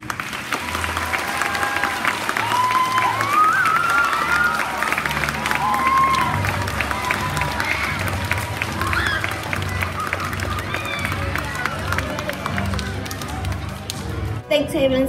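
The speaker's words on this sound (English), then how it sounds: "Let's give them one more round of applause." A studio audience at a local news broadcast gives sustained applause with scattered cheers, a dense clatter of clapping throughout, while a presenter talks over it.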